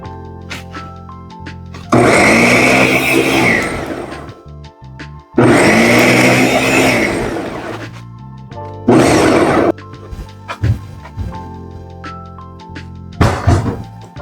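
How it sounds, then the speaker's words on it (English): Blender pureeing Jamaican jerk marinade on its smoothie setting, running loud and close in three bursts of a few seconds each, with short pauses and clunks between them and a brief final pulse. "we're going to use the smoothie function on the blender because we want this to be pureed"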